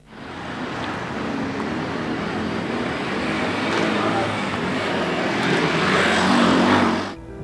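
Motor tricycles and motorbikes in dense city traffic, a continuous loud roar of many small engines rising and swelling as vehicles pass close by, then cutting off abruptly.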